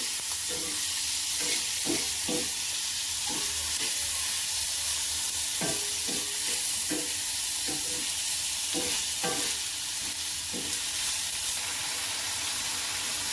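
Tomatoes fry and soften in a pan for a shellfish dish, a steady close sizzle broken by repeated scraping stirs of a spoon, with no talking.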